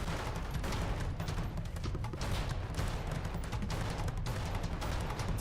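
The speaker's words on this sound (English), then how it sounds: "They're shooting us." Gunfire from a police shootout at a prison in GTA V roleplay, a dense, continuous rattle of shots over heavy background noise with no clear pauses.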